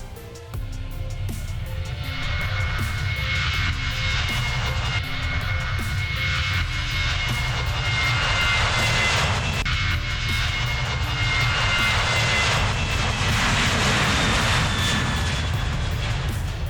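Roar of a Ukrainian Air Force MiG-29 fighter jet over the Kherson region, a loud, steady, broadband engine rumble holding for the whole stretch with a faint high whine riding on top.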